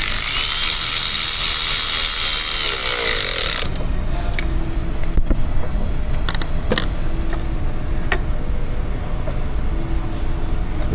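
A ratchet fitted with a 7 mm socket turns a hose clamp on a Ford F-Series 6.7 during an oil leak repair, giving sparse clicks and small metallic taps over steady workshop noise.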